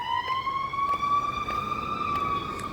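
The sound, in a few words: ambulance siren passing by outside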